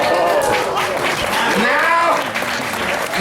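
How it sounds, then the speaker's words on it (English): An outdoor Renaissance festival crowd applauds a comedy stage show, sustained clapping across several seconds with a performer's voice talking over it. "Now you're only clapping because I gotta shut up."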